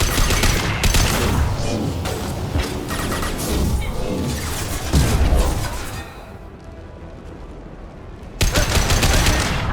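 Rapid gunfire and loud crashing blasts fill a fight in the video game Mass Effect 2, dropping into a brief lull before another dense burst of shots.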